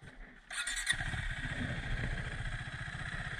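KTM motorcycle engine catching and settling into a rapid, throbbing idle after a brief clatter, loud and close, the pulsing beat steady to the end.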